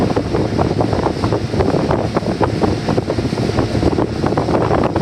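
A Parsun F130 EFI outboard motor cruises on a boat, its steady engine drone mixed with heavy wind buffeting and rushing water, loud and continuous throughout with no talking.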